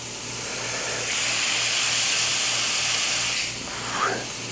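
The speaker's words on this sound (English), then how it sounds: "I'm gonna spray some non-stick spray on it before I flatten each burger" A steady hiss of non-stick cooking spray runs for several seconds over a low hum, ending with a faint clink.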